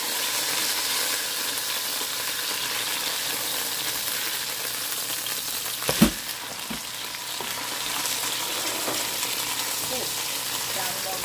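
Fish frying in a pan gives a steady, dense sizzle of hot oil throughout, with one brief clatter of a utensil partway through; close and even, with no talking.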